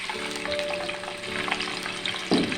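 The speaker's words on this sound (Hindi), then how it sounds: "अब फ्राई पैन में मैं लूँगा 1/2 कप ये घी है नाजरीन। इसमें डालेंगे 2 अदद प्याज" Finely chopped onions fry in half a cup of ghee in a frying pan, giving a continuous dense sizzle with a faint steady tone underneath and a brief louder scrape near the end.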